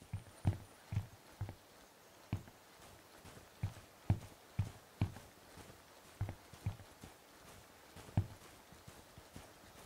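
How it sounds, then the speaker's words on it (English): Heavy footsteps thud in an irregular series in the tactical shooter Ground Branch, each step a soft, muffled impact at close to medium range over quiet background, with no talk. "Heavy footsteps."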